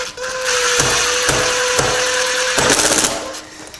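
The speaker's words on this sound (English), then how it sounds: "I'm going to tighten the screw at the top until I get it snug" A hand tool turns the screws snug on a preschooler's tricycle during assembly, giving a loud, close run of ratchety clicking with a few sharp catches over a steady mechanical whir.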